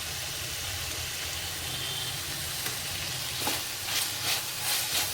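Cauliflower sautéing in hot oil after ginger garlic paste has been added, a steady close sizzle with a few louder bursts of frying and stirring near the end, no voices.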